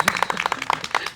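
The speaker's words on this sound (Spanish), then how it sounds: "Un aplauso," A studio audience claps for a guest on a Peruvian TV show, a short burst of sharp, distinct claps in an uneven rhythm, close and clear with no talking.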